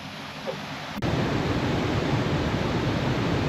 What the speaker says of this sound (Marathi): धबधब्याचा आनंद घेतला.